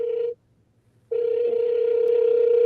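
A telephone ringback tone sounds while a hotline is being called, a loud steady electronic tone that cuts off briefly and then resumes. It is heard alone with no talk.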